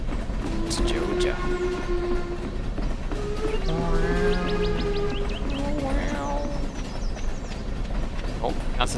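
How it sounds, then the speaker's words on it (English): A train rolls past in the Stardew Valley video game, its rumbling carriages joined by several sustained whistle blasts near the middle, while people chatter over it. "It's just a train that's going by."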